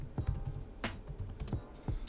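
Keys clack softly on a computer keyboard, a quiet, close run of irregular taps over two seconds.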